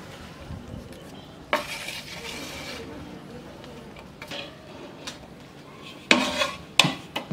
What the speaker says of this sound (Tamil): இப்போ நம்ம ஊற வச்ச 30 கிலோ மாங்காய்க்கு 1 கிலோ மிளகாய்த்தூள் போட்டு நல்லா கலந்துக்க போகிறோம்